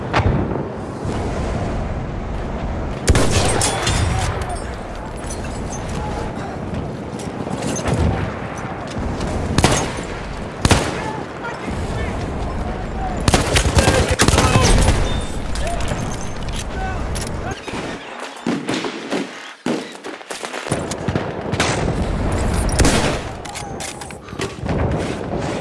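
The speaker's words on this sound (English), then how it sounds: "Machine gun right there!" Machine gun fire in the Battlefield 1 battlefield, with rapid bursts and booming explosions layered almost continuously, loud and close, while voices shout over the din and a brief lull falls near the end.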